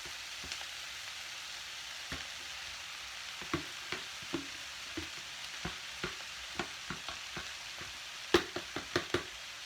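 Vegetables fry in a pan with a soft, steady sizzle while a utensil stirs them, tapping and scraping the pan in irregular clicks that sharpen near the end. The pan sits close by and the overall level is quiet.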